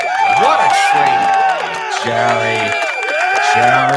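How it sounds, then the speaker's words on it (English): Cheering and applause sound effect played on a live sports talk show, bursting as a loud, busy crowd roar with whoops and whistling voices, continuous throughout. "Round of applause, chat. Is there a sound effect? Hit the sound effect."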